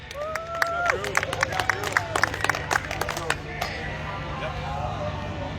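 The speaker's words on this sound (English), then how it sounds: "Let's have a round of applause for Drew Williams, your top door slammer champion." A crowd applauds a top door slammer drag racing champion at a round 4 bonfire salute, scattered claps rising and fading among chatter, with voices talking and a low engine-like hum underneath.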